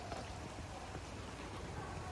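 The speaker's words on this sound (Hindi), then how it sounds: "बहुत तेज हो रही है बारिश।" Heavy rain pours down in a dense, steady hiss, with drops drumming continuously on nearby surfaces.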